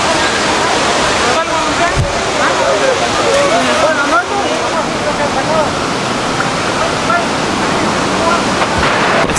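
Broad, constant roar of El Salto del Laja waterfall, loud and close with some wind buffeting, while people's voices murmur faintly underneath.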